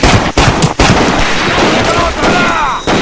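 Dense automatic and machine-gun fire from a Pacific battlefield in the game Medal of Honor Pacific Assault, loud and continuous with sharp bursts, with shouted voices mixed into the chaos.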